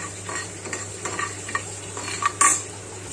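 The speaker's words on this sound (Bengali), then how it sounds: "এখানে দেখো চাল ভাজাটা প্রায় হয়ে এসেছে আর একটু লাল হবে নাবিয়ে দেবো এটা গোবিন্দভোগ চাল" Gobindobhog rice frying in a pan while being stirred, with repeated scraping and clinking strokes over a soft continuous sizzle, close and fairly quiet, no talking.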